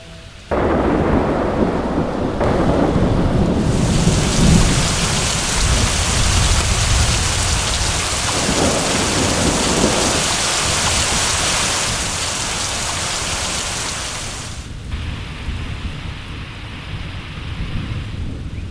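Rough weather of heavy rain and wind pours down near a masked lapwing plover nest, a loud, sustained rushing downpour that swells and then eases near the end.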